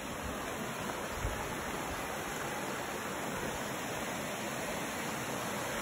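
A steady, full rushing roar of water from waterfalls along a forest trail near Flat Laurel Creek in Pisgah Forest, North Carolina, constant and unbroken without talk.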